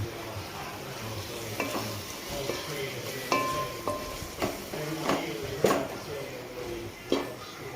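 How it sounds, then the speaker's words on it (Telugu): Chicken gravy stirred in a pan after lemon juice is squeezed in: a steady sizzle with repeated scraping strokes of a spoon against the pot at a moderate, uneven pace. "నిమ్మకాయ పిండిన తర్వాత ఒకసారి మళ్ళీ ఈ గ్రేవీని అంతా బాగా కలుపుకోవాలి."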